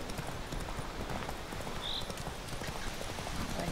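A horse gallops in a video game, its rapid clip-clop hoofbeats steady and close for the whole stretch, with no talking.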